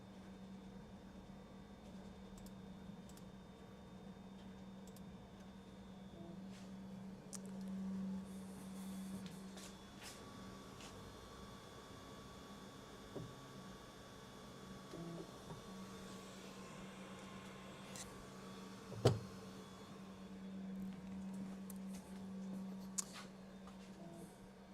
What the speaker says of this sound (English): Once again, we are gonna have to home the printer.